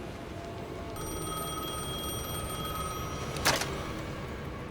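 A telephone rings inside the Alan Wake 2 video game, a steady electronic tone that holds for a few seconds and then breaks off with a brief sharp click, heard alone over a low ambient game background.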